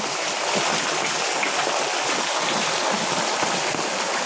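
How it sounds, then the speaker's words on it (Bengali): Steady, dense rushing of heavy rain and knee-deep floodwater at night in Narail, continuous and loud throughout with no voices. "অনেক বৃষ্টি হচ্ছে আমার পুরো হাঁটু পর্যন্ত পানি"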